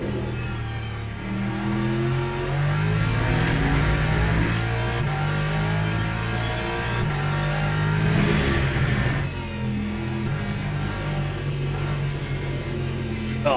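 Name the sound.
race car on the throttle in Le Mans Ultimate video game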